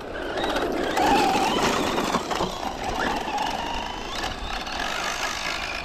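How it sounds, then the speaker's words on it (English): An RC car engine knocks roughly with a rattling, diesel-like clatter, revving and fluctuating outdoors at moderate distance, with background noise and no clear talk over it. "Sounds like a diesel."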